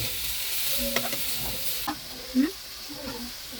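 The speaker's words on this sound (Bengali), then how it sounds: "আমি ডাকনা তুলে একটু নাড়াচাড়া করে দিচ্ছিলাম" Fried greens are stirred in a pan after the lid is lifted, giving a soft continuous sizzle broken by several scraping, clinking stirs and a sharper knock near the middle, with no talk.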